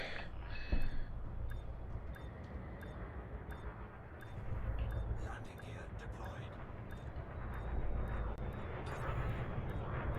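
A spaceship touching down in a video game, a broad steady engine roar with rumbling low end and hissing highs running throughout, swelling slightly in places, with a voice talking faintly over it.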